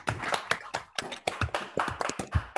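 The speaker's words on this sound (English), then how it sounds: "I would kindly ask everybody to unmute and welcome our speaker today with a very warm applause" A handful of people clap in a welcome over an online video call for a colloquium speaker, thin scattered claps lasting a few seconds, fairly faint and uneven.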